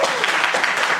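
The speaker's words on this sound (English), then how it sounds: "give yourself a round of applause real quick" An audience applauding, a dense, steady wash of many hands clapping for about a second, fairly loud and continuous.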